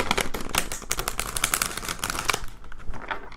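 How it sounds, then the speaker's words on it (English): A tarot deck is shuffled by hand, with rapid crisp riffling and card slaps in quick bursts for several seconds before the sound tapers off. "So hard to shuffle this deck."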